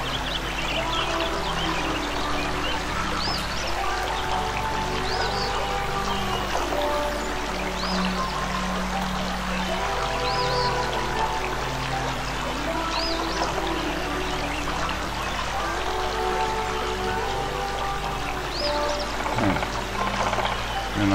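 Water pours and trickles steadily in the video game Anna, a constant close stream mixed with scattered bird chirps and soft tonal background sounds.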